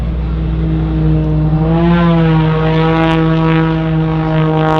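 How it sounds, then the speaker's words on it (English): A Red Bull Air Force propeller plane flies a Cobra maneuver at the 2022 Miramar Airshow, its engine droning loud and steady, then rising in pitch as it pulls up, with no talk over it. "I believe he's going to throw his patented Cobra move here, which stays the plane on the tail."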